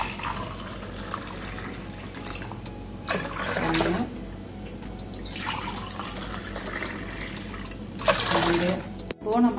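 Water is poured from a tumbler into a pot while making coconut jelly, arriving as several splashing bursts separated by quieter pauses, with low kitchen background noise in between.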